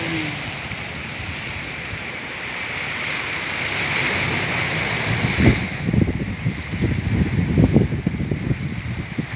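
Sea waves breaking along a corniche seashore, a steady broadband wash with wind noise on the microphone and rougher surges later, close and fairly loud, with no talk.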